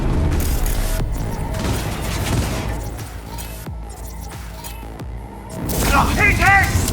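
Loud, dense gunfire and heavy explosions fill a Cyberpunk 2077 firefight, bursts and booms layered continuously with a big blast swelling near the end, while voices shout over the combat.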